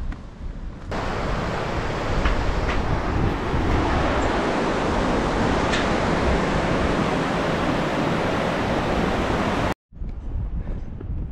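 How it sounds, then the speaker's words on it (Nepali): Mountain stream in the Tsum Valley of the Nepal Himalaya at high altitude, a loud, steady broadband rush of water filling the scene, briefly cut off near the end. "यहाँबाट यो के खोला हो त दिदी?"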